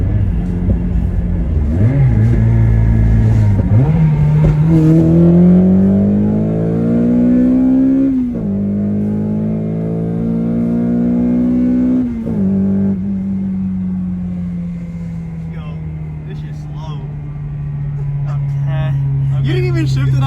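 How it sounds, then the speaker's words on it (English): Acura RSX with a sidewinder turbo setup pulling hard, the engine note climbing steadily through the revs, with gear-change dips between rising sweeps, loud and close inside the car as people talk over it. "let me do a quick little pull for y'all."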